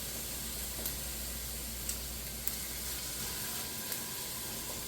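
Sizable garlic cloves fry in a pan for a pasta sauce, giving a steady, close hiss of sizzling oil with a few faint clinks and no talk.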